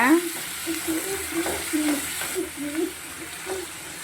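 Ridge gourd peels being mixed in a frying pan, a steady close sizzle with soft repeated stirring swishes, and a voice faintly audible in the background.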